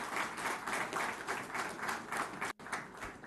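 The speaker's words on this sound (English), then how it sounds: "Can we have a round of applause for Shri K.T. Garu and his vision?" Sustained audience applause for Telangana minister K.T. Rama Rao at an airport cold chain centre launch, a dense steady wash of many hands clapping throughout with one brief dropout near the end.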